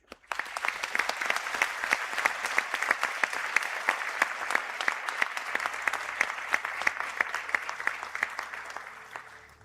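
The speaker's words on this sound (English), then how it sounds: "I ask for a round of applause to commemorate Harvest's achievements." A hall audience at a college conferring ceremony gives a long, even round of crisp individual claps that slowly thins and fades at the end.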